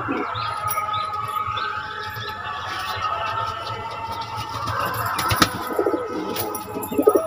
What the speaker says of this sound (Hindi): देखो ये भी जो नर कबूतर भाई वो भी गुटक रहा है